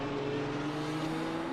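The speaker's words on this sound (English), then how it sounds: "the Lamborghini with, I believe it's a V10. Mm-hmm. And straight cut gears as well." A Lamborghini V10 race car with straight-cut gears in a racing video game drones steadily at high revs, a loud buzzing engine tone with a gear whine running throughout.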